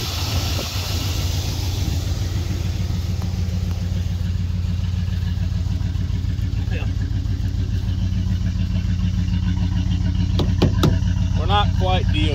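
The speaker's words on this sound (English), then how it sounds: "I mean, she's idling like a dream." A 1990 Dodge Ramcharger 2wd engine idles close by with a steady, low, even rumble throughout, and a few faint clicks and bits of background talk sit underneath it.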